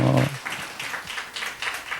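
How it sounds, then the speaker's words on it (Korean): Sparse applause from a college-age church worship audience, a few loose bursts of clapping following a brief voice at the start. "이럴 때 자막한테 박수를 한번 쳐주면 나올 것 같아요"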